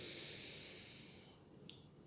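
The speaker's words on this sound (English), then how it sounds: "So we're going to take a deep breath in." A single slow deep breath in through the nose, a soft airy hiss that fades out over about a second, faint and close, with a tiny click near the end and no talking.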